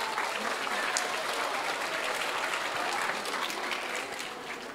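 A music recital audience in Amagá claps in a warm, dense burst of steady applause that holds across the span and eases slightly at the end.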